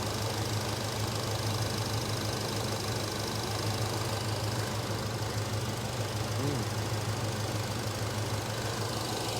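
A Chevrolet El Camino with fuel injection, now repaired, idling steadily and evenly at close range, a constant low mechanical hum with no revving or voices.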